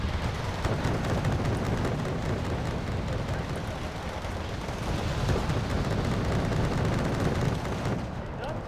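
Artillery fire in the strategy game Wargame Red Dragon, a steady dense barrage of low booms and gunfire rumbling without pause, loud and continuous throughout.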